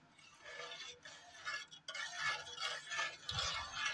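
Ghee stirred into warm, sweetened milk in a pot with the gas turned off, giving a steady close-up swishing and scraping that runs through the whole stretch with a few soft clinks near the end.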